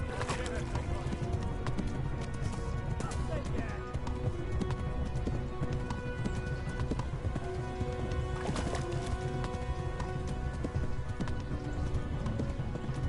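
A horse gallops in the video game Kingdom Come: Deliverance, its rapid clip-clop hoofbeats running continuously under game music and ambient noise, steady and moderately loud, with a player talking over it.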